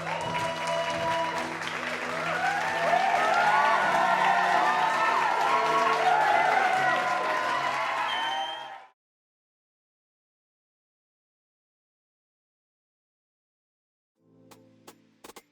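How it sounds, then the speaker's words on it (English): Audience at a wedding-industry anniversary soiree gives a loud, sustained round of applause with some cheering and whoops for the CEO, lasting about nine seconds before cutting to silence, then faint room sound near the end. "Please, a round of applause for the CEO."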